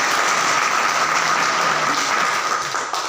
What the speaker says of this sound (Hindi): उन 22 छतों के लिए भी भरपूर तालियां आनी चाहिए जी